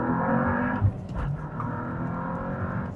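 A stock VW Golf R MK8 accelerating hard in second gear from about 3,000 RPM, its engine a steady, loud, broad drone with a brief bump near the start and no voices over it.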